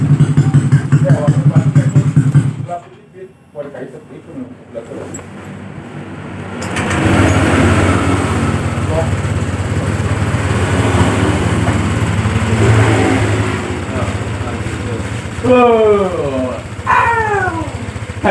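A Honda Vario 125 fi scooter with a cold-start problem starts after a short quiet gap, then runs at a steady, fairly loud idle hum close by, with people talking over it near the end.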